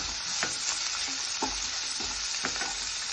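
Thinly sliced onions sizzling in a pan with green chilli paste for a chickpea curry, a steady bright fry broken by occasional stirring scrapes.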